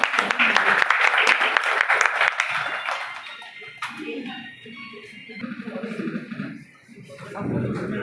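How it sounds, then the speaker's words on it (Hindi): Loud applause at an annual general assembly and honors ceremony in Siliguri, dense clapping that fades after a few seconds as voices and murmuring talk take over. "जोरदार तालियां।"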